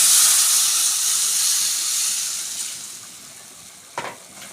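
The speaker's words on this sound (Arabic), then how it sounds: "التومه اتحمرت معايا كويس، هنزل عليها بعصير الطماطم" Tomato juice poured into a pan of sizzling fried garlic gives a loud, bright steam hiss that slowly fades over several seconds, ending with a short clink of a utensil.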